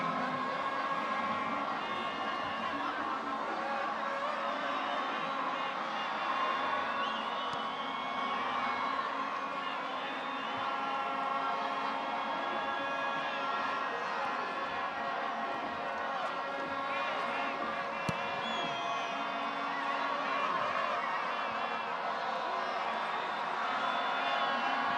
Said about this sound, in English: Buzz in the stadium.